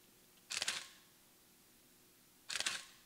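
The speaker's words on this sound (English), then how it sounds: "So I'm gonna go ahead and take a shot with the Pentax and then the Hasselblad" Two crisp mechanical shutter clacks from a Pentax 645Z medium format camera, each a quick double snap, spaced about two seconds apart against quiet room tone.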